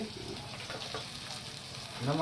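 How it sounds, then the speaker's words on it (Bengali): Food fries in oil in a pan at an outdoor riverside picnic, a soft, even sizzle that swells slightly at the end. "একদম টাটকা হয়ে ভাজা হচ্ছে"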